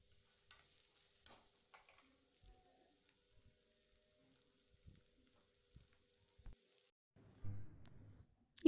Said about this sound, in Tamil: இது கூட நம்ம கொஞ்சமாக கறிவேப்பிலை சேர்த்து வதக்கிக்கலாம்